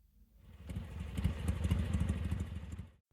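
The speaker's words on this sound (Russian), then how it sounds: "благодаря мощному V-твину мотоцикл легко трогается и легко набирает скорость" A Benda Chinchilla 450 V-twin cruiser rides past, its engine swelling from quiet into a close, throbbing rumble with a rapid pulsing beat, then cutting off abruptly at the end.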